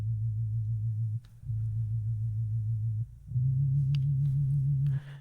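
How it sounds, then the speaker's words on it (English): Three sustained synth chords from a Roland Jupiter software instrument, each held about a second and a half with short gaps between, the last slightly brighter and louder; steady, close and alone. "I started with this chord right here, this one called Jupiter. This is a Roland plugin."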